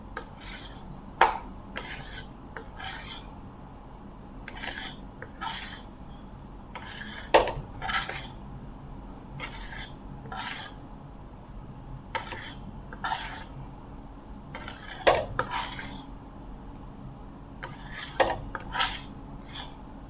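Metal spoon scraping and clanking against a pan while stirring a thick kandi peda mixture off the heat, irregular sharp scrapes and knocks repeating every second or two over a quiet background.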